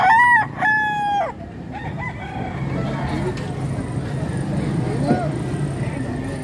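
A rooster at a fighting-cock market in Padre Garcia, Batangas, lets out a loud crow close by, followed by clucking and the murmur of a crowd, with people talking.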